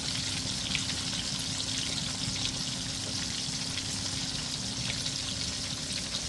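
Beef schnitzel fries in hot oil with a steady, close, dense crackling sizzle that holds without a break, and no voices are heard.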